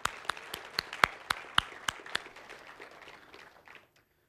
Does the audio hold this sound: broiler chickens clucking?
no